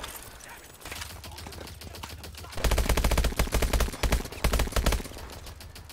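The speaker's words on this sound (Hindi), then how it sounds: "शायद से यहाँ से कोई एक बंदा बचा हुआ जो कि फायर कर रहा है कंटिन्यूस" Continuous machine-gun fire in the video game Call of Duty Advanced Warfare, a steady rapid stream of shots that swells louder and denser for about two and a half seconds in the middle before easing back.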